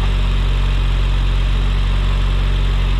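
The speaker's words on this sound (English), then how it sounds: "Good running motor." A 2011 Mitsubishi Lancer Evolution X MR with a front-mount intercooler and Cobb silicone intake idles steadily, a loud, continuous low engine drone with constant vibration and no one talking.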